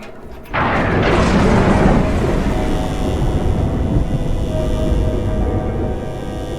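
Thunderstorm effect in the Tower of Terror preshow: a sudden loud crack of thunder that breaks into a long, heavy rumbling roll, slowly fading but still filling the space.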